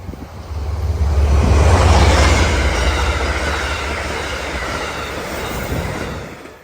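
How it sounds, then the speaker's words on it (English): A train passes close by outdoors, a loud rumbling roar that swells to a peak within the first two seconds and then holds as a steady, heavy wash of rolling noise and low rumble until the end. "A train's coming, so we're gonna get interrupted. Here comes the train."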